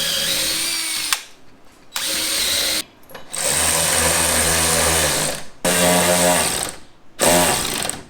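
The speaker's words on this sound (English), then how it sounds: "make sure that you're drilling at the right depth" A power drill whirs loudly in several bursts separated by short pauses, its pitch rising and falling as it bites into wood while mounting a ceiling storage lift.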